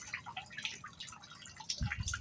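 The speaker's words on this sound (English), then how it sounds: "Listen to that water." Water trickling and dripping steadily outdoors toward a storm drain, a soft continuous splashing with a low rumble underneath, fairly close.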